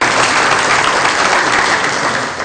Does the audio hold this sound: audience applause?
yes